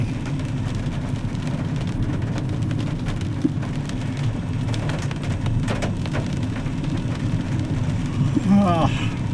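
Heavy rain pours down during a downpour on a city road, a dense, steady hiss with a low rumble running throughout and a voice briefly audible near the end.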